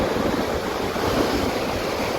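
Ocean waves surging into coastal rocks near Albany, a steady loud roar of churning surf with continuous wind noise and no distinct breaks between surges.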